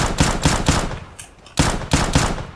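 Pistol gunshots in the video game CS:GO fire in quick bursts, with three sharp loud shots, a short pause, then three more, each with a brief reverberant tail.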